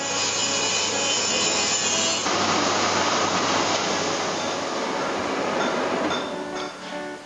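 A grain and corn drying machine for rice paddy runs with a loud, steady mechanical rush and rattle, constant throughout before easing slightly near the end.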